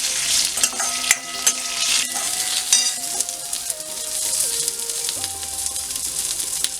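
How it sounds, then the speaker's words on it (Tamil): Karpuravalli (Indian borage) leaves fry in oil with a bright, crackling sizzle, punctuated by metallic spoon clinks and scraping against the pan, near and loud with no speech. "இப்போ நம்ம கற்பூரவல்லி இலை போட்டுக்கலாம். இதே எண்ணெயிலே நல்லா ஃப்ரை பண்ணிடுங்க."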